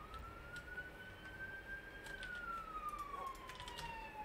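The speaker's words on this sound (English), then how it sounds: "The sirens go off." A siren in the video game Minecraft wails as a single tone that slowly climbs and then falls away, moderately faint over a steady background hiss.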